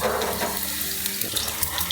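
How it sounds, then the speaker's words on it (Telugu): Boiled eggs fry in oil in a kadai, giving a steady, close sizzling hiss with small crackles and no talking. "ఇప్పుడు ఈ ఎగ్స్ని ఫ్రై చేసుకుందాము."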